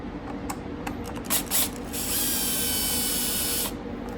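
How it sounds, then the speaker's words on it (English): A wrench loosens a screw on a Ridgid 12-inch sliding miter saw, with a few sharp clicks followed by a longer rasping ratchet-like grind, close and clear. "So the first step is to loosen up this screw"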